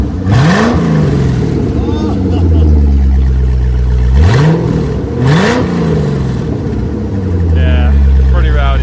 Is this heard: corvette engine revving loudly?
yes